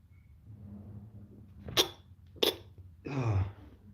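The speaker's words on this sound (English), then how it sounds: "Sneezing." A single sneeze bursts out near the mic amid soft background murmur, preceded by two sharp clicks or knocks, then a short throaty exhale.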